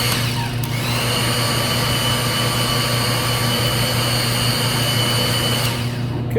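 VEVOR electric chain hoist, 120V single-phase and rated for 2200 lbs, runs slowly with a loud, steady motor hum and whine that holds evenly from start to finish with no pauses.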